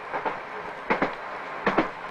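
A train running on its rails gives rhythmic clickety-clack bursts, paired wheel clatters repeating about every 0.8 seconds, moderately loud over a steady rumble with no talk.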